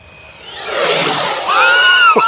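An electric RC F-86 Sabre model jet with a ducted fan passes in flight, its rising whine sweeping up in pitch as it nears and then holding a loud, steady whooshing tone.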